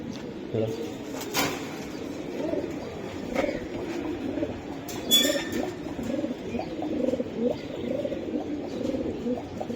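Giribaz high-flyer pigeons coo in low, soft repeated rolls close by, under ongoing conversation, with occasional clinks and rustles.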